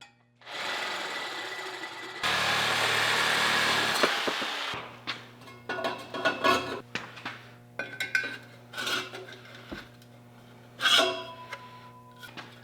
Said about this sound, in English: Sawzall time.